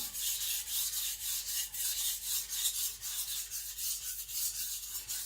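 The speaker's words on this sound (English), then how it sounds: "Just gonna flip the burr a couple of times to make sure it's uniform" A Sakon Ryuga gyuto knife is stroked across a Naniwa Professional whetstone to flip the burr, a close raspy scraping repeated in quick, even back-and-forth strokes.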